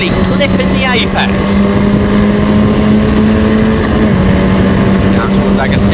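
Historic Formula Ford race cars run at Snetterton circuit, a loud continuous engine drone with shifting pitch as cars pass, heard under an excited race commentator talking throughout.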